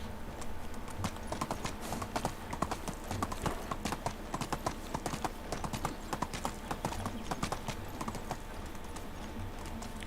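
A horse sprints in the video game Medieval Dynasty, its hooves striking in a rapid, even clip-clop that runs steadily throughout at moderate loudness.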